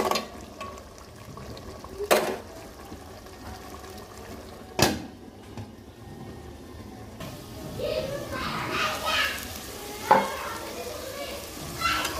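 Flat beans and potatoes stir-fried in oil in a pan sizzle steadily under a few sharp spatula knocks against the metal, while voices, including a child's, chatter in the background.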